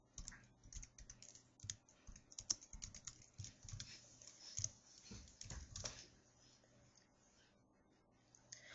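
Someone types text on a computer keyboard, a quick, uneven patter of close, soft key clicks that slows and thins out toward the end, with no talking.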